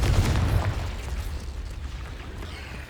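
A Confringo blasting spell explodes in Hogwarts Legacy, a single deep boom with a rumbling tail that fades over a few seconds.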